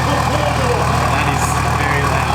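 Straight-piped 1HDT diesel LandCruiser 4WD with a 3-inch exhaust idling, a loud, constant low rumble filling the clip without change.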